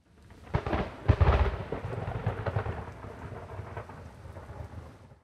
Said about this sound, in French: Il pleut, il fait pas beau